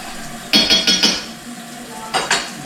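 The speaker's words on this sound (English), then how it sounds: "Let's stir that in." A spoon stirs cocoa powder into cake batter in a bowl for a seven-layer cake, giving several quick scraping, clinking strokes in a short burst, a pause, then two more strokes, close and clear.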